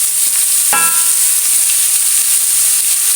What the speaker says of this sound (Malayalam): മുളകും ഉള്ളിയൊക്കെ മൂത്തു. ഇനി നമുക്കതിലേക്ക് വേവിച്ച് വെച്ച കായ